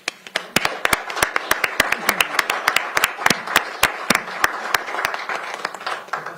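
Audience at a Pierce County Council meeting gives a round of applause, a modest group of distinct, sharp hand claps in a fairly sparse, uneven pattern that tapers off, close and clear with no talking.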